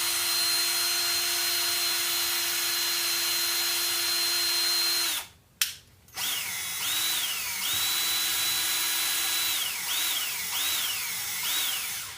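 A power drill whines steadily at a constant pitch, stops briefly, then restarts in several short spin-ups and longer runs, loud and close.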